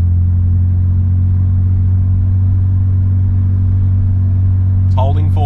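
A built engine in a BMW E90 drones steadily under driving, loud low rumble throughout, with a short tonal change near the end as the 8HP70 automatic shifts gears.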